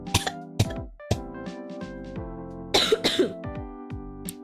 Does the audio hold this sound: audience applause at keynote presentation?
no